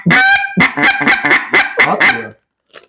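A handheld duck call blown hard produces a rapid run of about eight loud, close honks like a goose. A brief faint honk follows after a pause, with no talking.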